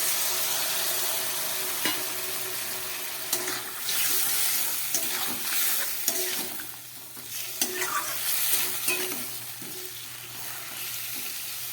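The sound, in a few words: water added to frying broccoli and beans sizzling in a pan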